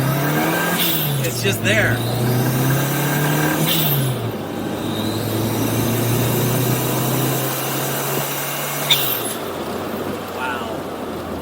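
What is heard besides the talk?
turbocharged classic Mini Cooper Clubman engine accelerating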